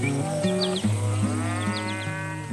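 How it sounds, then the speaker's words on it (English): Cows on a farm moo in long, loud, close calls that overlap one another, with sustained lowing tones rising and falling over a few seconds and no one talking. "the cows graze in quiet harmony"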